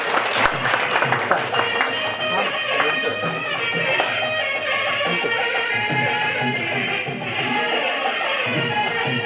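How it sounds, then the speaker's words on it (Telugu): Continuous clapping from a seated audience at a retirement function as a gift is presented, steady and fairly loud, with music and murmuring underneath. "ఒకసారి గట్టిగా చప్పట్లతో అభినందనలు కోరుతున్నాను."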